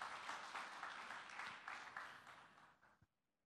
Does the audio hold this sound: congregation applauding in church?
yes